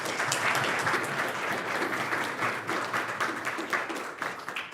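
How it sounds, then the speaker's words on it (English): Steady, dense applause from a conference audience in a lecture hall, welcoming a speaker to the stage and holding at an even, full level throughout without speech. "Let's give him a round of applause."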